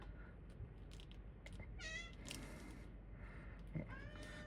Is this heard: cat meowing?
yes